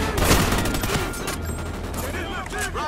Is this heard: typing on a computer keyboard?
no